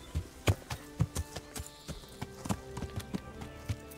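Horse hooves clip-clop at a steady walking rhythm in the Kingdom Come Deliverance video game, with close, distinct hoofbeats continuing throughout.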